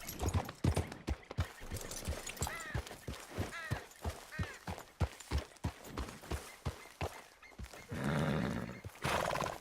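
A horse gallops in the Western game Red Dead Redemption 2, with rapid, rhythmic hoofbeats pounding close by and a loud neigh and snorting breaths over them.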